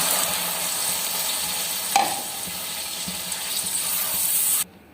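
Water poured into a hot pot of peas for aloo matar pulao, a steady sizzling gush running throughout with a brief louder splash midway before stopping abruptly near the end.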